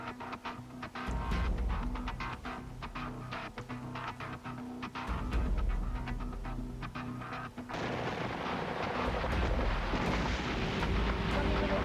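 Artillery of 59 Brigade keeps up a sustained bombardment on a battlefield, heavy low booms and rumbling blasts rolling one after another, dense and continuous with no voices.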